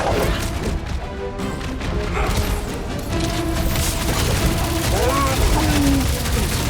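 Gunshots and combat clashes in the video game Marvel's Guardians of the Galaxy, a dense, continuous mix of impacts and weapon fire with talking voices over the action.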